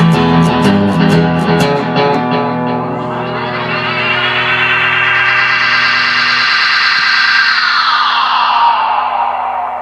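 A Space Echo tape echo effect builds into self-oscillation, repeating tones smearing into a loud, rising, wailing feedback drone that sustains for several seconds.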